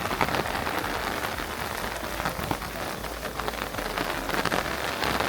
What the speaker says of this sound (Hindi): बारिश तो बहुत ज़्यादा तेज़ हो गई